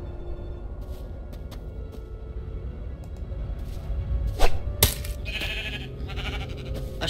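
A few short, bright bleats of a sheep in Minecraft: Story Mode ring out over a steady electronic hum, separated by clicks and soft game sounds.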